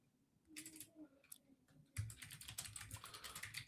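Typing a prompt on a computer keyboard: a quiet pause, then bursts of key clicks that turn into steady, fairly close rapid typing in the second half. No one speaks.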